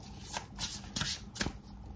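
Tarot cards being shuffled, a few quick riffling bursts in a row, close and moderately soft, with no talking over them.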